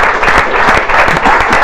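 Dense, loud applause from a studio audience on an Ethiopian TV talk show, a steady burst of many hands clapping with no speech over it.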